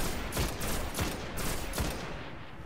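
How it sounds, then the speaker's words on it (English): Scout rifle fire in the Destiny video game: a string of sharp, evenly spaced single shots, about five cracks over a few seconds, each with a short ringing tail, loud and close with no voices. "Let's use a scout rifle, it's a lot easier"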